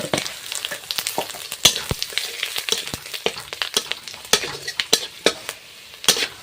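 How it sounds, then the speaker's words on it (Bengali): Dried red chillies, chopped garlic and panch phoron spluttering in hot oil as a spoon stirs through, sharp irregular pops and crackles over a continuous sizzle, close and lively with occasional metallic scrapes. "এবার তরকারি রান্না করার জন্য শুকনো লঙ্কা দিয়ে দিচ্ছি আর হালকা করে একটু রসুন কুচি পাঁচ ফোড়ন দিয়ে দিলাম"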